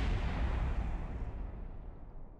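A rocket explodes in the video game Kerbal Space Program as a broad, booming blast whose rumble rolls on and slowly fades, heard alone and fairly quiet.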